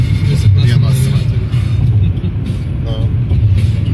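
A car drives along a road toward the far shore, its steady engine and tyre rumble filling the cabin from close inside, with people talking over it throughout.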